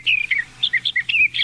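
Bird call of a western North American songbird that winters in Arizona, New Mexico, Texas and Mexico: a close, bright series of quick high chirps and short whistled notes over a quiet background, with no voices.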